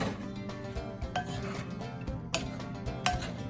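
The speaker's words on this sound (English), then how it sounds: "I'm just going to mix this up a little bit with my spoon here." A spoon stirs corn pone batter with fresh bacon grease in a bowl, giving a steady run of soft scraping and light clinks against the dish, close and fairly quiet throughout.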